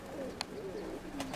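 Pigeons coo softly and low through a steady background hush during a late-January flock flight, with a couple of sharp clicks or flaps mixed in.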